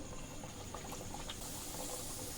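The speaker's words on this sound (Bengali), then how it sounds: "তেলটা অনেকটাই গরম হয়ে গেছে এখন একটা একটা করে পাপড়িগুলো দিয়ে দেবো" Pieces of papri dough dropped one by one into hot oil for frying, giving a dense, steady, loud sizzle that holds for the whole moment without a break.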